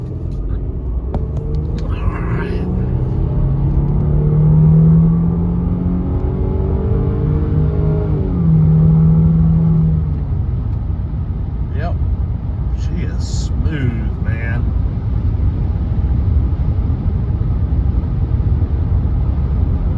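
An old Audi A6 that sat unused for over a year idles with a steady low rumble, under a person talking close by.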